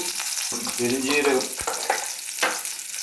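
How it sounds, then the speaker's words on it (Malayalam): Shallots, chilli and curry leaves frying in hot oil for tempering a beef masala: crackling sizzle with spluttering pops and a stirring scrape, close and fairly loud for a few seconds. "നമ്മളിതിനെ ഒന്ന് താളിക്കാൻ വേണ്ടി ബീഫ് മസാലയ്ക്ക് വേണ്ടി ചെറുള്ളി ഇട്ടു, മുളകിട്ടു, കരിവേപ്പില ഇട്ടു"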